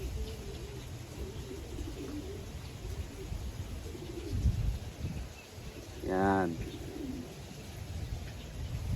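A small racing pigeon hen coos and flutters as she lands at the loft after a two-hour race, a brief burst of wingbeats and calls over steady background murmur and bird chatter, with someone talking nearby.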